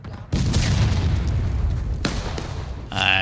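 Artillery battery firing in the video game War of Rights: two heavy, booming blasts, each rolling into a long rumbling tail, with a brief voice-like sound at the very end.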